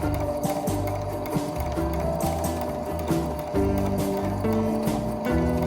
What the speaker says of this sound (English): now we're ready to sew along the length of our project